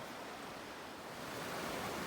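Water from a stream rushes steadily beneath a bridge outdoors, a broad, continuous hiss of flowing water that grows slightly louder toward the end.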